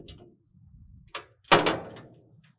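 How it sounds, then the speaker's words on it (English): Door on a FlexiROC D60/D65 drill rig swung shut with a single firm slam around the midpoint, preceded by a softer latch click, close and fairly loud against a quiet background. "Close the door back up."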